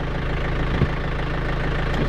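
A tractor engine idling, a steady low rumbling drone held close and even throughout with no break.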